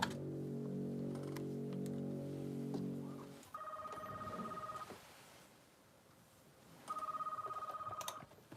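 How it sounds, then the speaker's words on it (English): Two bursts of an electronic telephone ring from the horror game Five Nights at Wario's Switched in Time, each a steady trilling tone lasting about a second and a half, after a low droning hum, with quiet between. "I'm gonna keep quiet so you can listen to the phone call."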